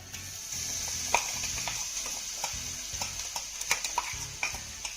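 Green chili paste frying in a little oil in a pan, a steady close hiss and sizzle with occasional spoon scrapes and taps against the pan.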